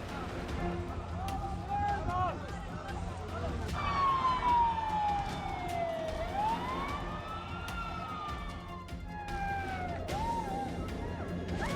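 Wailing sirens sound across Israeli cities, rising and falling tones drifting over a noisy street background with traffic, while a voice speaks over them.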